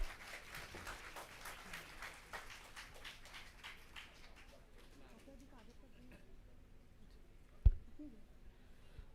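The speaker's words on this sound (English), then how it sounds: "Please give a big round of applause for Sir." Moderate clapping from an audience in an institute auditorium as a guest is called to the stage. It fades over about four seconds into a quiet room, with one sharp knock near the end.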